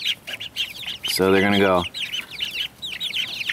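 Chickens on an off-grid homestead cluck and chatter close by, with one louder, drawn-out squawk in the middle, while a person speaks briefly over them.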